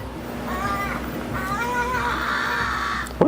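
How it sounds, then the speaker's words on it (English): A crow caws outdoors, a few rough harmonic calls in quick runs, moderately close over a steady low background hum, ending with a short knock. "What is that noise? Some bird. I don't even know what kind of bird."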